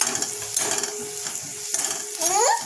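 A spoon stirs chili powder, a pinch of turmeric and coriander powder in a sizzling pan for a red tomato chutney. The scraping and frying hiss are close and steady, rising louder near the end.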